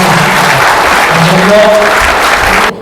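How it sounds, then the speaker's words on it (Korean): Audience applause fills a hotel hall during a city development strategy briefing in Andong, a loud, continuous roar of clapping from a large crowd, with faint voices underneath, stopping abruptly at the end. "박수 한번 치고 감사합니다"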